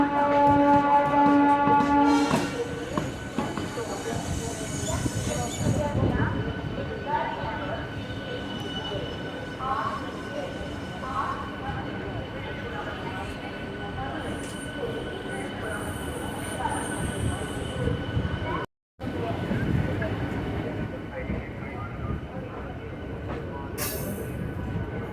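A train on the Villupuram–Katpadi line rumbles steadily along the tracks, with a horn-like tone at the start, wheel squeals and rattling, and faint voices in the background.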